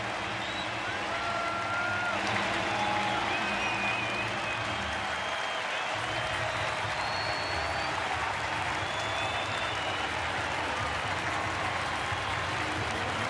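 A baseball stadium crowd applauds a departing pitcher at an Angels night game, a steady wash of clapping and cheering that holds loud and continuous throughout, with faint whistles rising above it.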